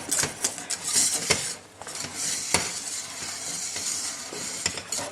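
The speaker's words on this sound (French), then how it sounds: "Bien mélanger en continu pour pas que le fond de la casserole ne crame" A utensil scrapes and stirs thickening choux pastry cream in a saucepan, with continuous close-up swishing broken by sharp clinks against the pan.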